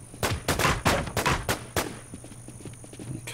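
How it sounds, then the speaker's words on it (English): A rapid burst of gunshots rings out in the online survival game Infestation, a cluster of loud, punchy reports in quick succession that fades into softer scattered clicks and footsteps. "Okay, shots."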